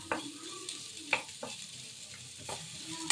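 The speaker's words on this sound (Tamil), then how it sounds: "அந்த எண்ணெய் போட்டு கொஞ்சம் வெங்காயத்தை வறுத்து எடுத்துக்கலாம்." Onion fries in oil in a pan, a quiet continuous sizzle punctuated by several brief scraping stirs from a spoon.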